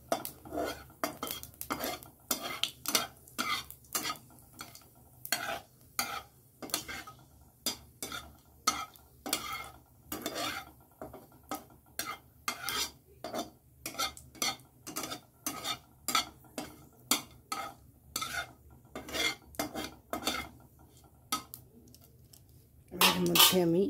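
Cumin seeds and two dried red chillies being stirred in a pan with a metal utensil, giving repeated clattering scrapes in an irregular rhythm and a faint sizzle underneath, up close with no talking.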